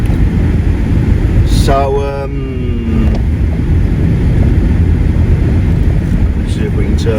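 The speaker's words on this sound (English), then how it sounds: "let's see if we can turn the heating up a little bit just to shut the fan up" A Peugeot 309 1.9 diesel's heater fan blows noisily inside the car, a steady loud rushing drone that fills the whole clip, with a brief spoken word near the start.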